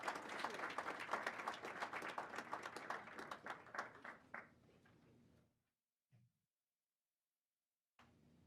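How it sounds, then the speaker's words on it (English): Audience at a Board of Education meeting applauds the wrestlers with rapid clapping that thins out and stops after about five seconds, followed by near silence with a brief knock. "Can we get one more round of applause for all of their hard work and effort?"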